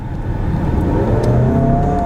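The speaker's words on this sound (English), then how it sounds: "it's going to be fun to hit the gas pedal in a second" A 2018 VW Atlas S with a 2.0L turbo engine accelerates from the cabin, a loud, steady engine drone rising in pitch as the revs climb, with road and wind noise underneath.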